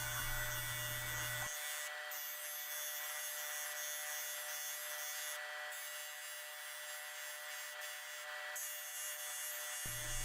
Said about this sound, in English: I'll be sanding off the excess to sand this down right to the border